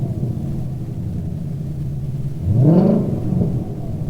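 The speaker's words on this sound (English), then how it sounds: "Give it a little rev." A 2020 Ford Shelby GT500 sits idling with a low, rumbling burble. It gives one short, sharp rev that rises and falls quickly, then settles back to idle.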